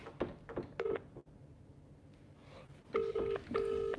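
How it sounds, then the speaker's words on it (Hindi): A phone going off during an online chemistry class, with soft keypad-like beeps at first, then a loud repeating electronic ring tone in two bursts near the end. "किसी का फोन आ रहा है"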